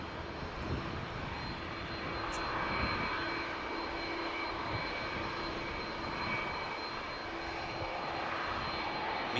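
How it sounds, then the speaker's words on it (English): Jet engines of EasyJet aircraft at Manchester Airport, a steady broad roar with a sustained whine, loud and continuous with no talk. "the one that's on the taxi is EasyJet flight to Amsterdam, the one that's just on its way over here now."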